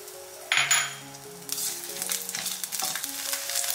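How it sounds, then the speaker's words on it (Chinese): Ginger, scallion and garlic hitting warm oil in a clay pot, a brief metallic clink of a utensil followed by a rising sizzle with crackles and stirring scrapes, no talking, a soft background tone underneath. "油温热了之后呢，我们把姜葱蒜放进来先炒香"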